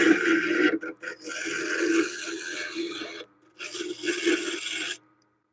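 A small spindle gouge cuts hard end-grain wood on a lathe, making a steady, close rasping scrape in long passes with brief pauses between cuts, ending in silence.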